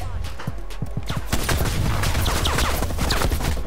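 Rapid sniper rifle shots and surrounding gunfire crackle through a Call of Duty: Cold War match, a few sharp reports early, then a dense, continuous barrage of loud overlapping bangs.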